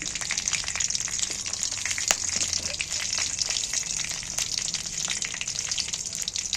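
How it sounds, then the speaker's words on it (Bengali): Bay leaves, dry red chillies and cinnamon sticks crackling in a few spoonfuls of hot oil, a steady bright sizzle with scattered sharp pops throughout, close and alone. "দুটো তেজপাতা দুটো শুকনো লঙ্কা দুটো ডালচিনি দুটো দিয়ে ফাটিয়ে দিই"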